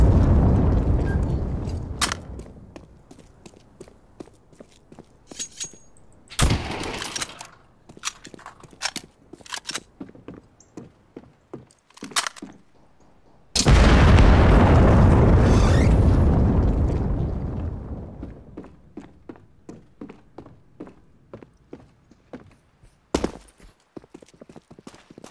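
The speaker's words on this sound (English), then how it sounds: "The first wave of missiles are about to be fired" Missile strike explosions in CS:GO Danger Zone on the Blacksite map: scattered sharp pops and cracks, then one loud, close, rumbling blast that slowly fades, followed by more sparse snaps.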